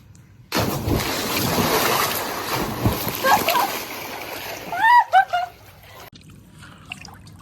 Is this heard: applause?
no